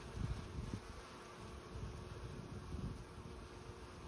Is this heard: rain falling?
no